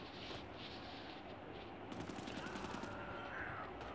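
A machine gun fires rapidly in the Brothers in Arms 3 World War II shooter, a dense continuous fusillade of rattling shots with a wash of battlefield noise, steady and fairly loud throughout.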